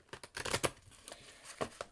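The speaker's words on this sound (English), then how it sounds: "Give another couple of shuffles here." Tarot cards being shuffled by hand in a few quick riffling bursts, close and fairly quiet, with no talk over them.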